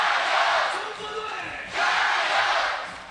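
A basketball crowd roars in support of China at a FIBA 3x3 Asia Cup game against Qatar, a loud sustained cheer that dips briefly and then surges again.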